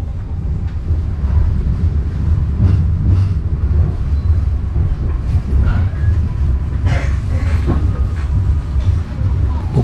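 A local Walahar train arriving at Cikarang station in Bekasi, heard as a steady low rumble of wheels and carriages with squeals and clanks over wind buffeting, and faint talk in the background.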